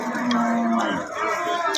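Cattle at a livestock market in Dharmapasha upazila, Bangladesh, give a loud, close, drawn-out moo that fills the short moment, with crowd murmur faintly behind.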